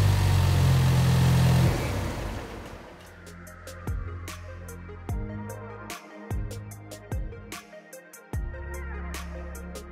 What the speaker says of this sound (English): Now immediately the turbo is definitely louder with the aftermarket cold air intake.